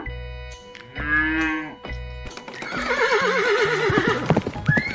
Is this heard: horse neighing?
yes